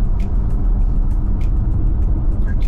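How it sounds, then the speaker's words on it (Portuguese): Inside a Haval H6 GT hybrid SUV, a steady low rumble of the combustion engine running under road noise, continuous and fairly loud with faint high ticks. "Dá pra começar a perceber quando o motor liga"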